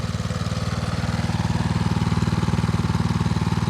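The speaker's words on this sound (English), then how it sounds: "lawnmower powered outboard motor" A small lawnmower gasoline engine powering a homemade outboard motor runs loud and close, chugging in a fast steady rhythm with rattling clatter, under load.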